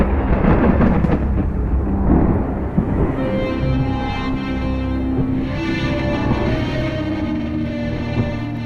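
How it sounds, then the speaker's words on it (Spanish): Deep, rolling thunder from a lightning storm rumbles loudly and continuously, with a sharper crack near the start and a sustained tonal, music-like layer through the second half; no speech. "Estos cambios drásticos, expansión y contracción, producen ondas de choque que a la vez generan el típico y ensordecedor sonido del trueno."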